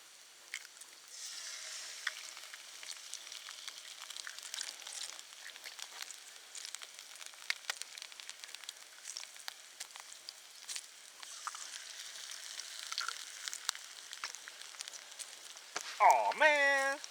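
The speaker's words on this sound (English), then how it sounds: "Now I'm working on the bacon." Bacon frying in a pan at an overnight campsite, giving a steady crackling sizzle with scattered pops that runs the whole time. A brief voiced exclamation comes in near the end.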